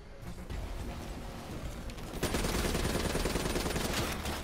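Sustained automatic gunfire from Call of Duty: Black Ops III, dense and loud, growing heavier partway through as shots crackle in fast succession.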